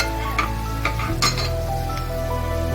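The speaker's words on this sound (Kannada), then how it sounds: "ಬೀನ್ಸ್ನ ಫ್ರೈ ಮಾಡಿ." Beans frying in a pan for tomato rice give a loud, continuous sizzle close by, with a few light metallic clinks and stirring scrapes over the top.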